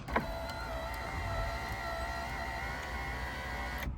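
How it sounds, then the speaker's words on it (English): The electric sunroof motor of a 1999 Toyota 4Runner runs with a steady, close whine and hum from start to finish. A click comes as it starts and another as it stops. "The sunroof works great."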